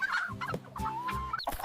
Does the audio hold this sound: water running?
no